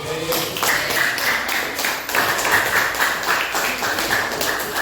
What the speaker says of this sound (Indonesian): Oke, tepuk tangan dong buat kelompok 1.